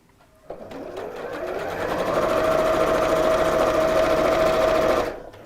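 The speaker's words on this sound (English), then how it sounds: "take the second 2 pieces and sew those into a tube." A sewing machine runs steadily, stitching fabric pieces into a tube during a half-yard sewing project; a loud, continuous mechanical whir that spins up after a short pause and stops abruptly near the end.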